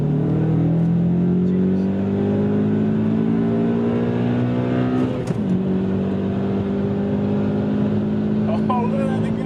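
A Honda Accord Euro S and a Subaru Legacy 3.0R accelerate hard side by side in a rolling race, their engine notes rising steadily and loudly, dropping briefly at a gear change, then climbing again.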